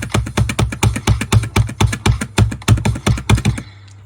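Rapid, evenly paced mouse clicks during a computer game, about six sharp taps per second, close and crisp, running steadily before stopping abruptly.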